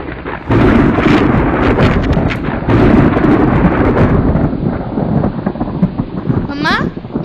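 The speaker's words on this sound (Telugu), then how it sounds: "ఉరుములు మెరుపులు కూడా వస్తున్నాయి" Thunder rolls through a rainstorm as a loud, continuous rumble lasting several seconds, with a brief voice near the end.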